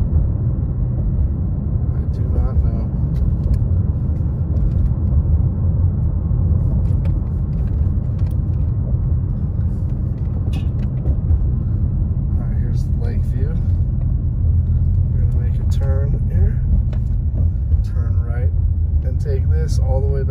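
A car drives along a snowy lakeside road past homes, with a steady low engine and tire rumble throughout and a few faint higher whines and squeaks near the end.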